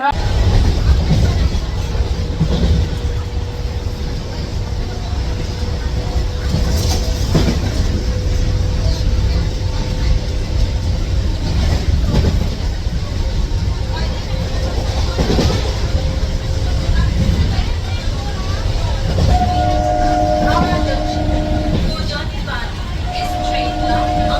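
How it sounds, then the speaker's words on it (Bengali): A Sheoraphuli–Howrah local train arrives with a constant loud rumble and rolling clatter throughout, and a horn-like tone sounds near the end. "হাওড়া লোকাল আমার ট্রেন চলে এসেছে।"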